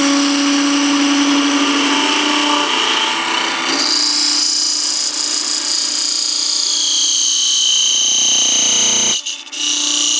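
A parting tool cuts through a wooden ring spinning on a lathe, giving a loud, steady high-pitched squeal with whining tones that shift in pitch, running continuously until the ring parts off near the end.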